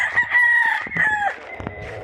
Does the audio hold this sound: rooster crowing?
yes